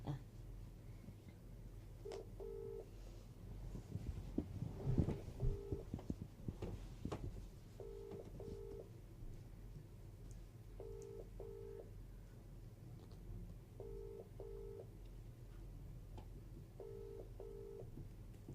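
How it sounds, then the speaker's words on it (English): An outgoing phone call's ringback tone repeats in regular paired beeps at steady intervals, faint and thin through a phone speaker, with low background murmur and some handling noise. "I'm ringing you."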